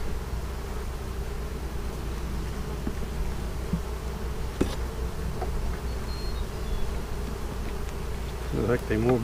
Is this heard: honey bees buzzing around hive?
yes